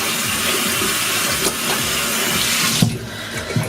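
Running tap water splashes steadily at a sink while makeup remover is rinsed off a face, a loud continuous gush with small splashes and a brief dip near the end.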